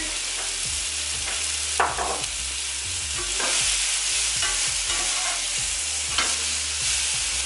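Sweet potatoes sizzle and fry in olive oil in a pan, a steady close hiss broken by repeated scraping stirs, with no talking.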